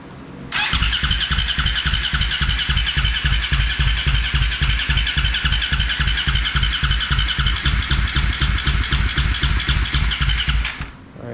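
A KTM engine fitted in a Honda TRX450R ATV cranks and catches, then runs for about ten seconds with a loud, steady, rapid single-cylinder thump before cutting off. The sound is close and there is no talk over it.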